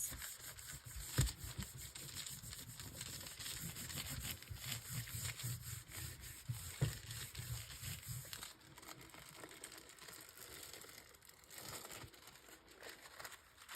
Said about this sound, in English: Giving it a good burnish with my fingers, getting in all those little crevices.